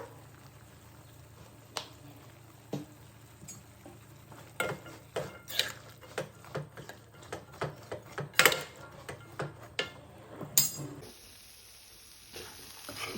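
Brown chana fried and stirred in a pan for chaat: a run of sharp utensil scrapes and taps against the pan, growing denser and louder midway, over a low steady sizzle, then a quieter tail.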